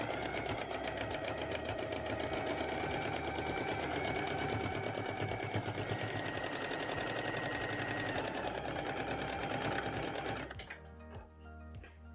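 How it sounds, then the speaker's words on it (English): A sewing machine runs continuously for about ten seconds, edge stitching an elastic casing on fabric with a fast even needle rattle, then slows into a few separate stitches and stops, nearby and without talk. "head back to the sewing machine and starting at one edge of the gap, sew a line of edge stitching right the way around"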